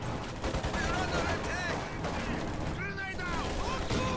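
Maxim machine gun and rifle fire from shock troops and conscripts crackle continuously in a WWII strategy game battle, dense and steady under a commentator talking throughout.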